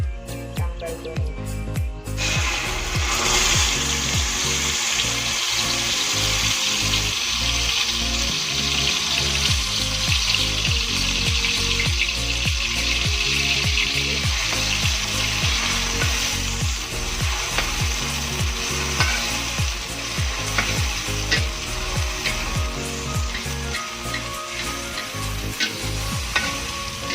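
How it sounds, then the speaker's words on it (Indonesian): Sambal goreng spice paste fries in hot oil with a loud, continuous sizzle, broken by rhythmic scraping as it is stirred in the pan, close and steady throughout. "Ini minyaknya sudah panas, jadi langsung saja kita masukkan bumbu sambal goreng."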